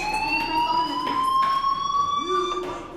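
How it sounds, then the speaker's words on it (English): A school fire alarm rings in the video game Life is Strange, a loud, steady electronic tone with sharp upper harmonics that holds continuously throughout, with a faint low voice briefly underneath. "Hey, do you hear that fire alarm? That means you should be outside."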